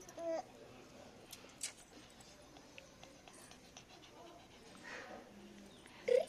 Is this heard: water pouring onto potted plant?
no